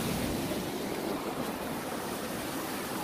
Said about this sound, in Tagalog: Lakas ang tubig, guys, oh. Lakas na alon.